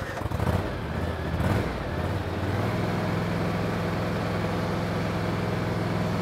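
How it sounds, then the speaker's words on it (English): A zero-turn lawn mower being driven slowly, its steady engine drone holding close and continuous, with a brief rougher surge near the start before settling into an even hum. "we're going to take a little drive so we can show you exactly how easy it is to drive a zero-turn mower"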